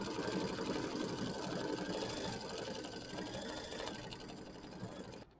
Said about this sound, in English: it's going to do stitching, or Livin' the Sweet Life